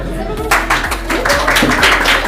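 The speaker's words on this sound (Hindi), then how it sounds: "इनके लिए जोरदार हो तालियां" Audience clapping for a prize winner at a 2021 Class XII Arts prize distribution ceremony, with a burst of steady, moderately loud applause that rises after a brief pause.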